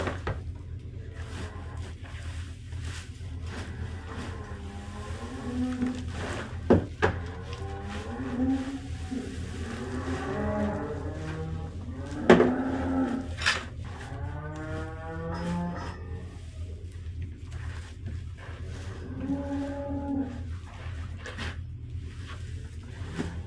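Heifers inside a barn give several moos, some short and some drawn out, spaced over a steady low hum of barn equipment, with occasional clunks and rustles nearby.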